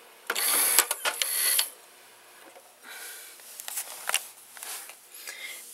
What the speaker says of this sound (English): let's press eject